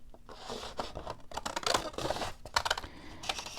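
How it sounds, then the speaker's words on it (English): Scissors snip across a paper line at close range in a quick series of crisp cuts with papery rustling, quiet and steady and without talk. "you can just cut it all the way across"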